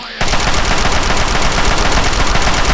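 Rapid automatic gunfire in Fallout 3, a dense continuous burst of loud shots fired in quick succession, close and steady after a brief quiet start.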